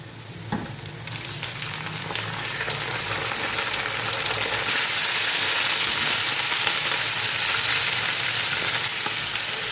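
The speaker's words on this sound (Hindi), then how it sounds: "कलेजी डाल के इसका हम कलर चेंज होने तक अच्छी तरह से फ्राई करेंगे" Chicken liver frying with golden-brown onions on a hot tawa, a steady, loud sizzle that swells and thickens over the first few seconds, then holds dense and continuous.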